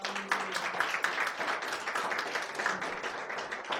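A church congregation applauds during a Hindi sermon, a dense, steady wash of many hands clapping together at moderate volume for a few seconds, with no clear speech over it.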